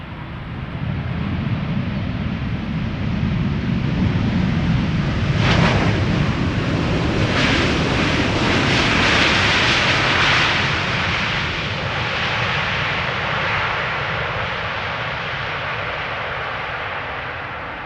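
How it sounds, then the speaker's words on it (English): KLM Boeing 787-10 Dreamliner arriving at Schiphol Airport from New York JFK, a loud, broad jet roar that rises and stays strong before slowly fading, no talking. "KLM flight 644 arriving from New York, JFK, 78710 Dreamliner"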